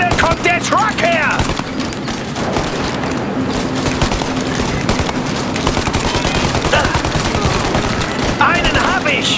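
Rapid bursts of automatic gunfire in the video game Mafia: Definitive Edition rattle almost continuously, dense and loud throughout, with brief raised voices cutting through now and then.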